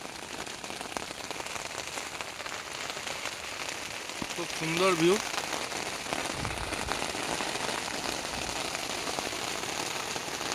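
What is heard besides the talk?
heavy rain falling while camping in a jungle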